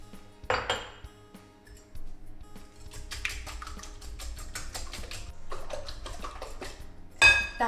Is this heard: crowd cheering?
no